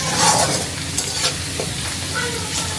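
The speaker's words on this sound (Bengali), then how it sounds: "তো আমি এইভাবেই নাড়াচাড়া করতে থাকি যাতে সমানভাবেই প্রতিটা পেঁয়াজই ভাজা হয়ে যায়।" Sliced onions sizzle steadily in a pan for a Bengali potato and bitter gourd fry, with repeated scraping stirs close up and no voices.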